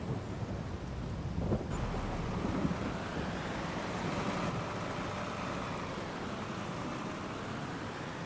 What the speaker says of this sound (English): it is starting to rain